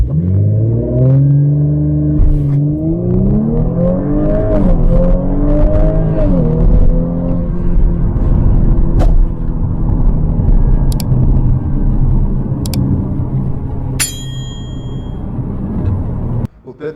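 Turbocharged 2.9-litre V6 of a 2017 Audi S5 with quattro drive, revving loudly and steadily with rising and falling pitch, a close, continuous engine drone, ending in a couple of short high tones.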